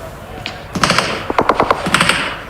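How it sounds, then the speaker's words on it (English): Bursts of rapid gunfire crack through a PUBG Mobile battle-royale match, several quick volleys clustered close together against a steady game background, with a commentator's voice running over part of it. "There's been bullets whizzing through the windows for a while."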